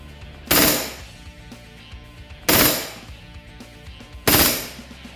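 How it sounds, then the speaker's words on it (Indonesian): A KWC PT92 airgun fires on full auto in three loud, sharp bursts spaced about two seconds apart, each one a rapid rattle that fades quickly, with no talking. "Kita berubah ke tembakan full auto."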